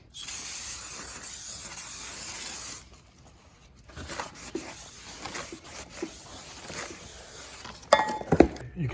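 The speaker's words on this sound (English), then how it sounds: "You're going to have to clean them off with brake clean" Brake cleaner sprays onto new front brake rotors on a Ford F-150, a close, loud hissing burst lasting a few seconds, followed by quieter handling clinks and scrapes.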